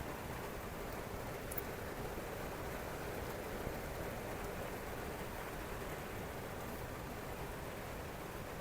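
Heavy rain pours down in a steady, dense hiss that stays loud and even throughout, with no voices heard.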